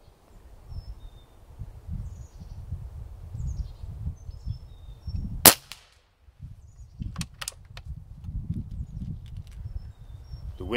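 Umarex Gauntlet 25 air rifle fired at an outdoor target: a single sharp, close report midway through, followed by a few fainter clicks from the action over low wind and birdsong.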